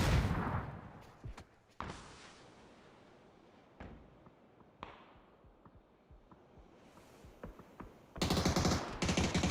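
Gunfire in a PUBG pro-team match: a loud opening burst, then scattered sharp single shots with distant reports, and a dense, loud volley of rapid fire at the end.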